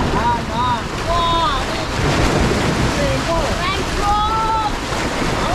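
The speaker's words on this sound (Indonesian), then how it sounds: "air sedang naik dan disertai oleh ombak yang lumayan besar" Fairly big ocean waves surge and wash continuously at a fishing spot while fishing for yellowtail mullet, with steady loud surf, wind buffeting the microphone and faint high calls over the roar.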